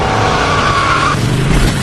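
A car tears away with its tires squealing in a tense escape scene from the film Underworld, a loud, close screech with a sustained high squeal that cuts out partway through, leaving the engine roaring on.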